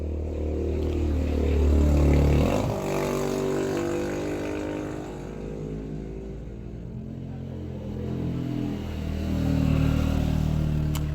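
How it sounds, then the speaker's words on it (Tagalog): Several motorcycles pass by on a street outside a house in hot afternoon weather, engines swelling loud then fading, with continuous low rumbling traffic throughout and no talking. "Dami pa din dumadaan ng mga motorsiklo guys kahit mainit."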